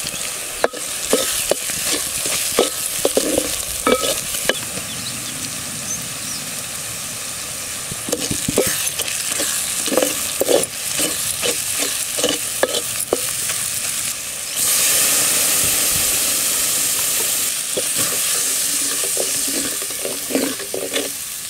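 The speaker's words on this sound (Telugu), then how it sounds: "ఒక సగం చెంచా పసుపు వేసి మంచిగా కలుపుకోవాలండి" Tomatoes with turmeric frying and being stirred in a pan for a small-fish curry, with a steady sizzle broken by repeated scraping stirs of the spoon, loud and close, with no talking.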